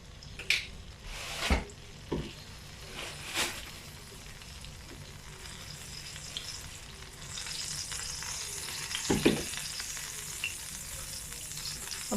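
Sesame oil crackles and sizzles steadily in a hot pan for tempering, with a few sharp clinks of a utensil early on; no voices.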